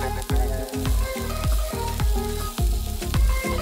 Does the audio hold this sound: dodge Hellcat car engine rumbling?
no